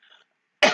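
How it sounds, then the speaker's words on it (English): A single sharp cough bursts out close to the microphone after a faint murmur and a short pause. "I'm going to have to cough here."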